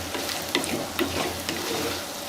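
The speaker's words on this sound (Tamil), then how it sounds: "இந்த மிளகாத்தூள் வந்து பார்த்திங்கன்னா இந்த எண்ணெயில் வந்து நல்லா பொரியட்டும்." Oil sizzles and crackles steadily in a pan as chili powder fries for dried anchovy gravy, with occasional light scrapes of stirring.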